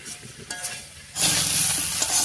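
Potato and jackfruit chunks being stirred into a cooked spice paste for a jackfruit curry, heard first as soft scraping, then as a loud, steady sizzle close by, with no talking.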